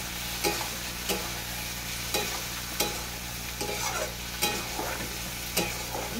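Fried potatoes and ground spice paste stirred and sautéed in a pan for soya kofta curry: a steady sizzle broken by regular sharp spatula scrapes about once a second, close and clear with no talk.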